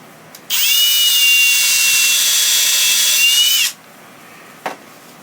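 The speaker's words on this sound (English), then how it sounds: "when you're drilling in to the edge of the plywood" A power drill whines at a steady high pitch for about three seconds while drilling into the edge of plywood, then spins down and stops; loud and close, with no talking.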